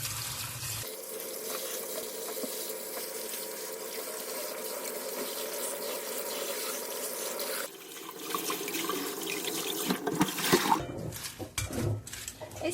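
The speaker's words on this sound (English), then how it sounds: "Wash the lettuce well by running water." Steady running tap water splashing into a sink while lettuce is washed, close and continuous, with a change in the flow and some handling clatter near the end.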